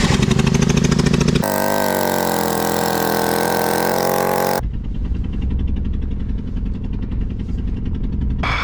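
A 2.7L Suzuki Grand Vitara engine runs rough and close by, loud and uneven, with a sharp shift in tone partway through as it stumbles and nearly stalls.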